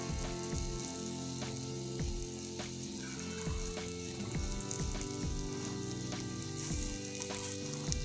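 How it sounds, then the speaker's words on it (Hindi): Burger patties fry in a pan while being pressed down, giving a continuous soft sizzle broken by regular scraping and pressing knocks, with no talking. "जब इनको फ्राई करना है तो इनको प्रेस करते जाना है ताकि ये अच्छी तरीके से हो जाए।"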